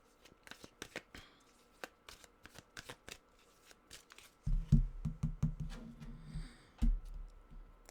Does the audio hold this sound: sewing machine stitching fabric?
no